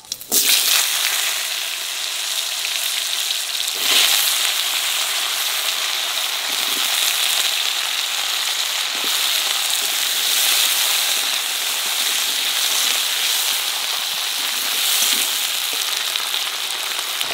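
Potatoes sizzle steadily in hot oil with radhuni and cumin, a dense bright crackle that goes on without a break. A few soft stirring knocks come through, and nobody speaks.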